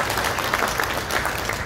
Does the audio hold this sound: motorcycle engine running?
no